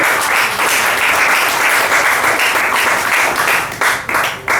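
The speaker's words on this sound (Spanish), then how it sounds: "Un aplauso al que vive" A church congregation claps loudly during a sermon, a dense, sustained burst of applause close and full throughout, thinning slightly toward the end.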